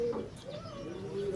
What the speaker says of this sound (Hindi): सारे कबूतर।